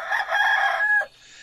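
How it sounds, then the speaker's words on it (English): A rooster crows in the video game Medieval Dynasty, one loud, drawn-out cock-a-doodle-doo close by, ending in a short final note and then quiet. "as you can hear, the rooster now makes noise"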